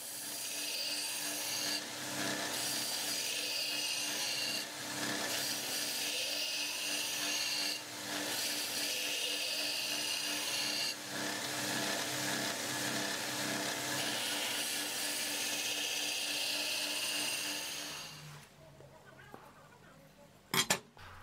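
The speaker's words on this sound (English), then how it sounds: "To grind with the jig, I started with a very aggressive angle to establish the bevels." A high-carbon steel knife blade is ground on its bevels with a jig, producing a steady abrasive rasping hiss in long passes, then a quieter stretch and a couple of sharp metallic knocks at the end.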